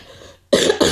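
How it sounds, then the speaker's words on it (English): A single loud, abrupt cough bursts out after a stretch of quiet, with a brief second burst trailing close behind, close to the microphone. "I got a cough."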